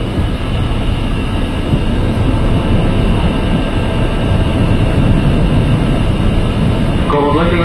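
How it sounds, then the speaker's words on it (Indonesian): A KRL commuter train, a former JR/Tokyo Metro 6122 set, rumbles steadily at a station on the Bekasi line, loud and continuous rolling noise with a brief squeal near the end. "di jalur 2-nya ada JR Tokyo Metro 6122 komuter tujuan Angke ya sepertinya"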